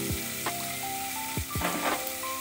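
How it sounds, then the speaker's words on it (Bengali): Food fries in a pan for a Bengali mixed rice dish, a steady broadband sizzle running throughout with a few brief low knocks and scrapes of a utensil against the pan. "এটা ভেজে নিচ্ছি মোটামুটি, বেশি ড্রাই করব না"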